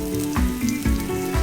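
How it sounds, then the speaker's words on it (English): Green chilies and asafoetida (hing) saute in hot oil for a restaurant-style Punjabi chana masala, giving a steady, close sizzle with a few soft stirring bumps throughout. "We will saute this for a couple of minutes"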